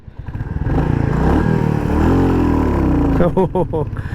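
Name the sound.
motorcycle engine in fifth gear stalling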